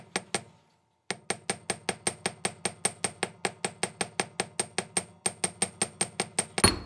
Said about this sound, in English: it's a forming hammer. And you basically just want to start tapping.